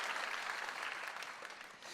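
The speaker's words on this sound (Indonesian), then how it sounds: "Yang percaya kita tepuk tangan yang paling meriah bagi Yesus Kristus Tuhan kita." A church congregation applauds steadily during an online Ascension Day worship service, dense and continuous clapping that fills the whole moment with no talk over it.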